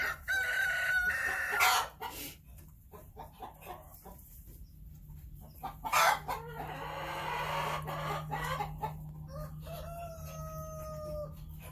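Egg-laying hens and a rooster in a backyard coop, with clucks, squawks and a clear cock-a-doodle-doo crow near the start, plus more drawn-out calls and fluttering throughout, close and lively.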